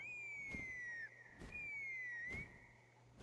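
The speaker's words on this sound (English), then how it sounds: "That sounded like a whistle." A whistle blown in Genshin Impact sounds three times, each a bright, sustained tone that slides slightly downward before breaking off, with steady pauses between the calls and no talking.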